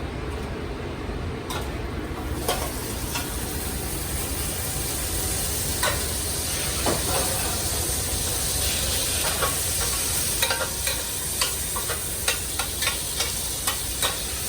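Pork browning in about a quarter cup of hot oil for cassoulet, giving a loud, steady sizzle and hiss with frequent crackles and the clicks of stirring, close up and without talk.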